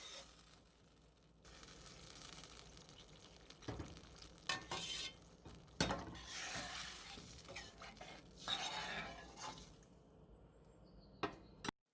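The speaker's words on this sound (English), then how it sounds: "Add the beans and stir." Red beans being stirred in a pot with ketchup and sugar, giving soft scraping and sloshing strokes over a low sizzle, with a few sharper spoon knocks against the pot; no talking.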